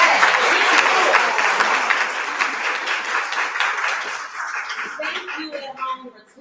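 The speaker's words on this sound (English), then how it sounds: "Give yourself a round of applause." Sustained applause from a crowd at an entrepreneurs' pitch competition, loud and dense at first, then gradually thinning and fading out toward the end, with some voices mixed in.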